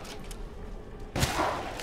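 A newly acquired gun fires in Resident Evil Village, giving one sharp, loud shot after a stretch of low rumbling game ambience.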